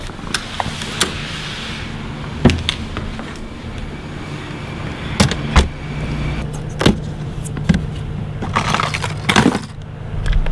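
Truck engine and road rumble from inside the cab on an early-morning drive, a steady low hum with intermittent knocks, clicks and rattles, no talking.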